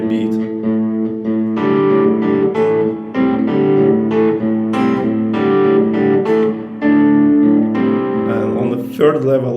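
An electric guitar plays part of a song, strummed chords with a bass note on every beat, loud and sustained with brief gaps between phrases.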